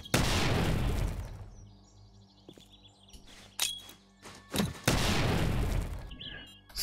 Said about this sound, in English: I believe you can throw down grenades. So let's just try that real quick. Contact grenades are not a good idea